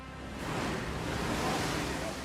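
Storm surge waves from Hurricane Sandy crash over a company of firefighters, a thick, continuous roar of surging water and wind that swells after the first half-second and stays loud throughout.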